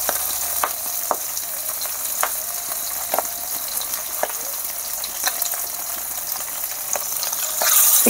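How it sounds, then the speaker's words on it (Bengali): Fish pieces rubbed with salt and turmeric fry in hot oil in a wok, a loud, close, continuous sizzle punctuated by sharp spitting pops, swelling briefly louder at the end. "মাছ আমি এক এক করে দিয়ে দিচ্ছি"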